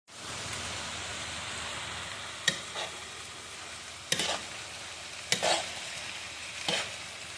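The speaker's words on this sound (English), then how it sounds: "This is just me stirring it." Chouriço sausage browning in a pan, a steady soft sizzle with periodic scraping knocks as a utensil stirs it, four or five distinct strokes spaced a second or so apart.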